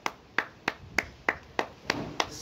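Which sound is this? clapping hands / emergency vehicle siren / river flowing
clapping hands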